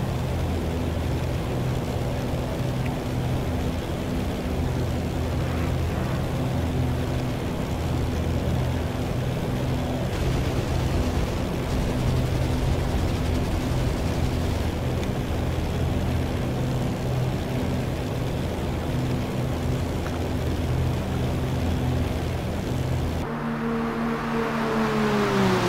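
A Spitfire's piston engine in the DCS flight simulator drones steadily and loudly throughout, a dense rumbling roar with a sudden tonal change near the end as the throttle shifts.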